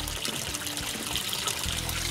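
Water from a backyard aquaponics filter packed with scrubbing pads trickles steadily back into a fish tank, a close, continuous splashing dribble with no talking.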